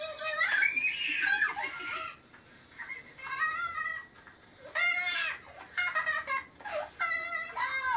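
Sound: chickens clucking

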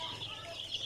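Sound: chicken chicks chirping

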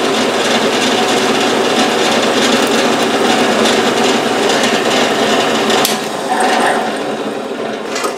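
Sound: drilling a metal part with a number 7 drill bit

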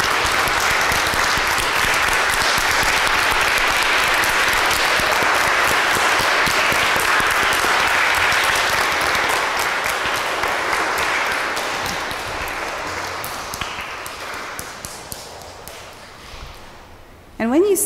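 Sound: audience applause at school morning mass

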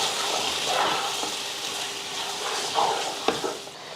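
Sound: sautéing mutton in a pot

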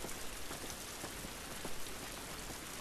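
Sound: rain in The Last of Us Part 2 video game

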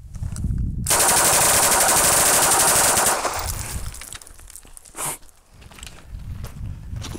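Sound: Polish RAK PM63 submachine gun firing fully automatic

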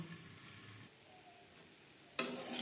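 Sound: onion stalks frying in a covered pan

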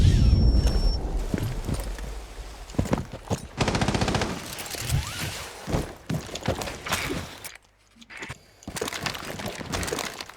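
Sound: gunfire shooting through walls in Rainbow Six Siege video game

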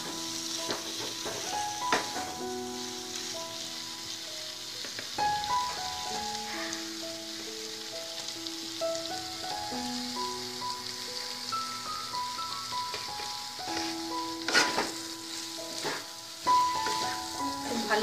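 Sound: raw jackfruit and prawn frying with potatoes

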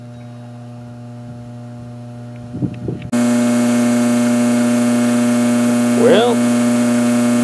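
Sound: spa equipment humming after power is switched on

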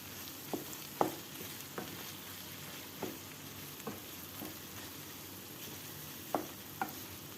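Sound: minced meat frying with pepper and tomato paste

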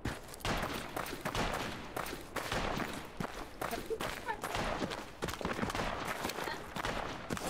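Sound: gunshots in video game Project Reality 2

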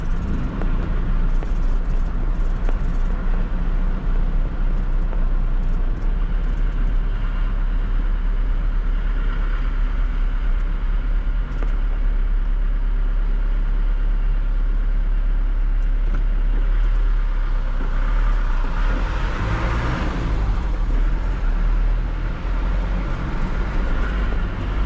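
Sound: Ford F1000 pickup truck engine with straight exhaust, shifting gears

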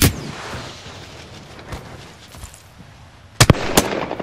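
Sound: gunfire in a battle royale video game

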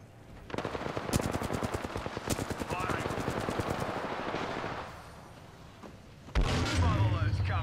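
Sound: gunfire in a battle royale video game

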